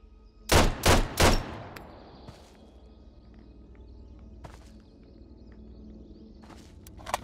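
Three loud, sharp gunshots fire in quick succession in the Road to Vostok video game, followed by a long fading echo and a couple of faint distant shots.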